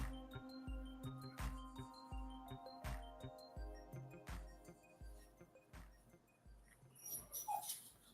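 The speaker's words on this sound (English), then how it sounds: "This dog, I tell you." Dog whimpering and whining in a thin, high, repeated cry, wanting to go outside, heard over steady background music with a few clinks.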